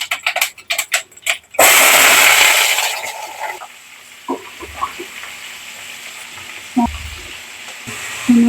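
Peanuts, cumin, mustard seeds, curry leaves, onion and chilli hitting hot oil: a sudden loud burst of sizzling that gradually fades, preceded by a few sharp knocks and followed by occasional clatters of utensils.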